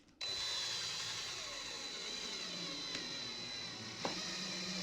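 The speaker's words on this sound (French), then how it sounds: "là, je vais venir percer celle-là" A power drill starts abruptly and spins continuously, driving a screw into a piece of wood on a workbench, a steady nearby whine with a couple of faint knocks and no talking.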